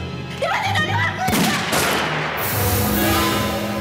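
Gunfire in a Chinese-language TV drama scene: a sharp, loud shot bursts out mid-scene with a short broadband crack, amid raised voices and a steady background bed.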